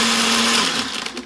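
A Ninja blender whirs loudly while blending a Blue Hawaiian cocktail, a dense continuous motor roar with a steady low hum that grows rougher and choppier toward the end of the short burst.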